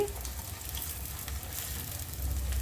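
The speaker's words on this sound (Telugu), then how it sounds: "ఇవైతే ఫ్రై చేసుకుంటున్నాను నేను హాఫ్ కేజీ బెండకాయలు తీసుకున్నాను" Half a kilo of okra fries in oil, a continuous close crackling sizzle that rises slightly toward the end.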